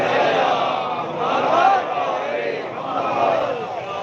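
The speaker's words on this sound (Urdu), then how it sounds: "بلندتر صلوات علیہ کریں گے محمد" A congregation at an imambargah in Lahore recites salawat together in a loud, swelling chorus of many voices, rising and falling in waves.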